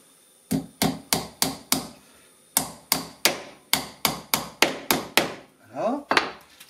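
A hammer drives a nail into a wooden beehive frame being made into a drone frame. About fourteen sharp, close taps fall in two quick runs with a brief pause between them, then a softer scrape ends the sequence.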